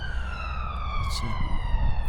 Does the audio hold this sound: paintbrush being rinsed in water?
no